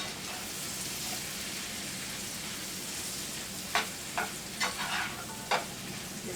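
Sweet onions frying in browned butter in a skillet give a steady, moderate sizzle, joined near the end by a few sharp stirring scrapes.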